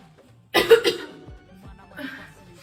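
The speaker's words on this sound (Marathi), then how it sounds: "त्याच्यामुळे ना जरा मला खोकला लागलाय ग" A woman coughs in a short burst of several rough coughs up close, followed by a faint throat-clearing and quiet movement.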